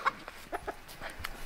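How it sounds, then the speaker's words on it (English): Free-ranging chickens scuffle on a Michigan farm in winter, with short sharp clucks and squawks coming in scattered bursts at moderate distance. "we got some chicken fights going on"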